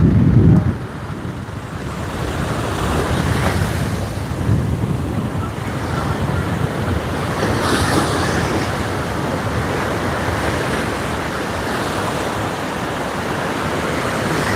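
Ocean surf rolls onto a Hawaii beach in a steady, loud wash of waves, with wind buffeting the microphone throughout and no pause in the roar.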